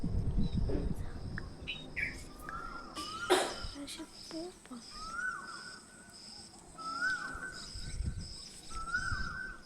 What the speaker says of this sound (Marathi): आणि कोकिळेचा आवाज ऐकू येत होता बऱ्याच दिवसांनी.